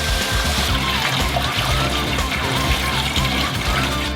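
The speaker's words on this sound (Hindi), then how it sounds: "पानी निथार ले" Boiled potatoes are drained in a kitchen as water pours off in a steady splashing gush, fairly close and continuous, with a faint voice in the background.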